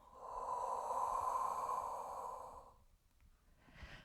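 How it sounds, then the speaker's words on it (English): A long, breathy exhale from a person doing standing Pilates for neck posture, close and sustained for about two and a half seconds, followed by a soft short breath. "Exhale."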